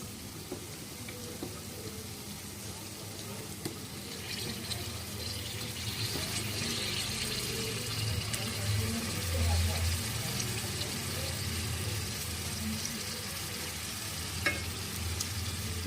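Soaked dried fish tipped into a hot pan for a dried-fish and egg curry, giving a steady low sizzle and stirring with occasional soft clatter throughout.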